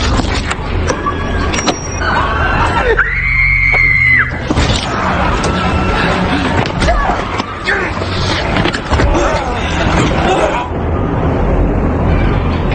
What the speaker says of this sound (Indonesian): Malam mengerikan itu dipenuhi dengan teriakan kesakitan dan darah di mana-mana.